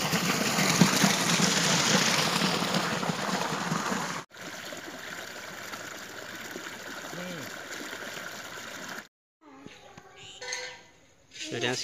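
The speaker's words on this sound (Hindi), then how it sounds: "खेतों में पानी छोड़ रखा है" Water rushes and gurgles steadily close by as it is let into village farm fields, a continuous flowing stream that briefly cuts out before softer trickling and voices follow.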